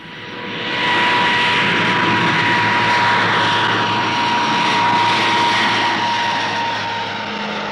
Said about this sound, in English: Another of 1959's newcomers is the Argosy Freighter Coach, a new design from Armstrong Whitworth for the rapidly expanding air freight market.